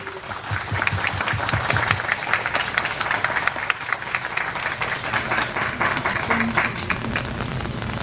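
A concert audience at a wind band festival claps steadily and densely to welcome a university wind orchestra and its conductor, the sustained applause filling the hall throughout without a break.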